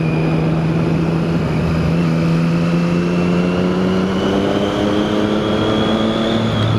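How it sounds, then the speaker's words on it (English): A pickup truck drives past on a mountain road, its engine a loud, steady drone whose pitch slowly rises over several seconds as it nears, with no talk over it. "Pickup truck coming."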